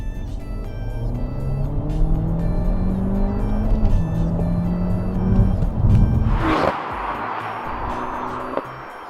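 A 2016 Peugeot 308 GTi hot hatch engine revs hard in second gear and climbs steadily in pitch as it accelerates, then the note drops sharply with a brief whoosh near the end.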